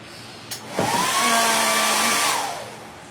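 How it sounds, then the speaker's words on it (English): Hair dryer blowing on a handmade mummy door-sitter craft piece, switching on with a rising whir, running steadily and loud for about a second and a half, then winding down. "Let me touch this with the blow dryer."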